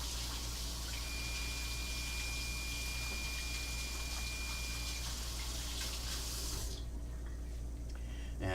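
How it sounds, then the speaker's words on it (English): Hands are washed under a running kitchen sink tap, a steady close rush of water that stops abruptly near the end. "So let's wash our hands."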